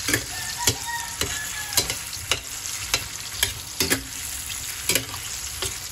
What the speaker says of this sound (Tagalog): Sagrito lang piniprito ng pure food.